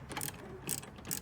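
A ratchet clicks in three quick bursts while tightening a fuel pump fitting inside a Nissan GTR R35, close up and fairly quiet with no voices.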